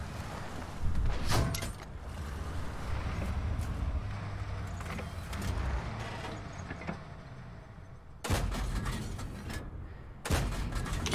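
Tank cannon firing high-explosive shells in World of Tanks on the Lakeville map: a few sharp, loud booms stand out over continuous engine rumble and battle noise, with two strong blasts near the end.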